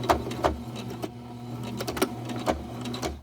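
A sewing machine back stitches a Christmas stocking seam at a half-inch allowance, its motor humming steadily with short rhythmic bursts of needle clatter, close and moderately quiet.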